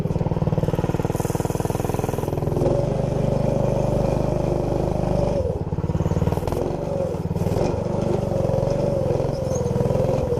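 A minibike engine fitted with a brand-new exhaust runs steadily and loudly close by, a continuous droning rumble with slight shifts in pitch and a rattling clatter throughout, with no pauses.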